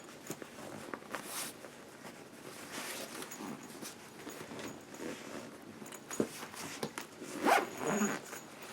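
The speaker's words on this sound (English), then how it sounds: "And the zippers are really smooth." Several quick zipper pulls on packing cubes rasp close by, quiet and intermittent, with soft handling rustles between them and a longer zip near the end.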